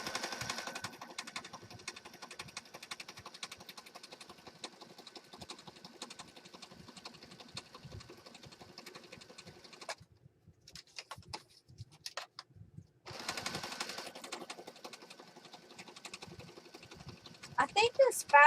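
A domestic sewing machine runs a closed zigzag stitch around a fabric junk-journal project, a steady rapid mechanical patter that stops briefly partway, then resumes, with a few louder knocks near the end.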